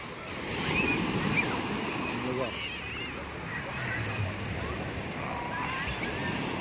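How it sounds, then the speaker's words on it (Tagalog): Gentle ocean waves at a beach resort in Real, Quezon roll in as a soft, steady wash with some wind buffeting the microphone, while people talk over the surf throughout. "malumanay lang yun alon ang ganda lang"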